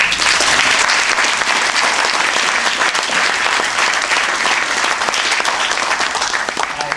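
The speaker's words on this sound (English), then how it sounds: "So I want us to applaud ourselves for being here." An audience at a library talk claps steadily and loudly for several seconds, a dense, even wash of applause with no voices standing out.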